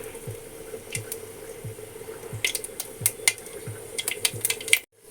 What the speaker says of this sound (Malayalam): കടുക് നന്നായിട്ട് പൊട്ടട്ടെ.